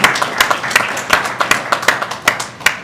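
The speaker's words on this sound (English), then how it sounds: "Let's have a big round of applause for them as well." Scattered clapping from a graduation ceremony audience in a university auditorium, a loose steady patter of individual hand claps at moderate loudness with no talking over it.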